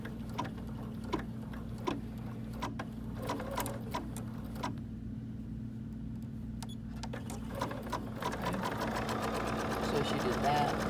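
An embroidery machine stitches ribbon with a steady, rapid mechanical ticking and whirring hum, close and continuous, growing busier toward the end while people talk over it.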